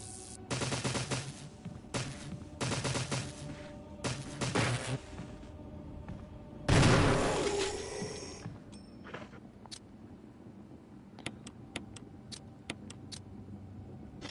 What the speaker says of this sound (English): Can you let me at least fire my gun?